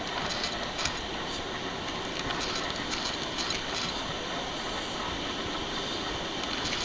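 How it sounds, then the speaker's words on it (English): Steady, loud rolling rumble and hiss fill the inside of coach 2 on high-speed train G7120, running between Shanghai and Wuxi with a 300 km/h top speed, with faint rhythmic clicks and no talk. "This is supposed to be a high-speed train."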